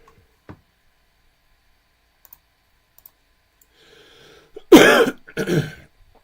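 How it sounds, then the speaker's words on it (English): A person coughs into a microphone, two harsh bursts close together following a few faint clicks and near silence. "I meant to mute my microphone before I coughed there"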